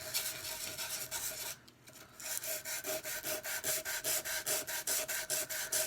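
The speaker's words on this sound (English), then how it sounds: "And start sanding that away." 220 grit sandpaper rasps rapidly back and forth across laser-engraved wood in quick, even strokes, with a brief pause before the rhythmic scrubbing resumes.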